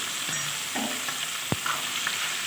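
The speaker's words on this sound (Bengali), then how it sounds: "মাছের মাথাটা সুন্দর করে ভেঙে মুচমুচো করে আমি ভেজে নিচ্ছি" A fish head fries crisply in a wok with a steady, close, hissing sizzle, broken by a few faint clinks and stirring sounds.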